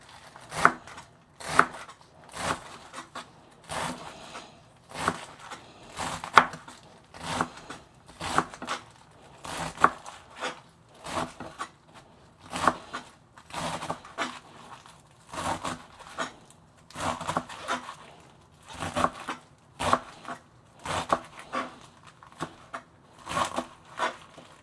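Washed spinach is chopped with a knife on a board, a long run of steady, close, rhythmic thuds and crisp leafy cuts in quick bursts, fairly quiet, with no talking.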